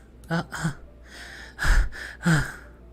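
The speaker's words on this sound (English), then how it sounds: "A sharp inhale from someone is sucking in the air through their teeth." A sharp inhale hissed through clenched teeth in Doki Doki Literature Club, heard as several short, breathy gasps, with the strongest near the middle and another soon after, close and fairly loud, with no talking.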